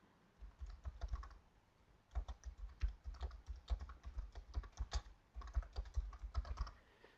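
Fingers type on a computer keyboard in quick irregular bursts of clicking keystrokes, close and fairly quiet, with brief pauses between runs and no speech.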